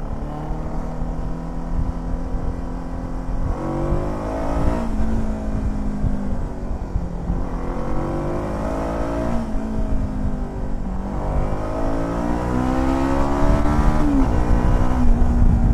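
A Zongshen Cyclone RX3S motorcycle engine revs repeatedly, rising in pitch through the gears then dropping back, a loud close motor roar building over several cycles.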